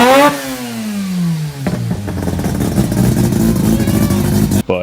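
Rotary-engine car revving hard close by, a loud rising then falling buzzy engine note followed by a rough, choppy idle with sharp rasping revs.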